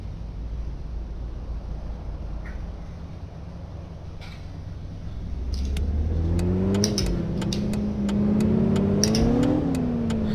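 Car engine revving in the City Car Driving video game, a steady low drone that swells into rising and falling revs, loud and close, with no talk over it.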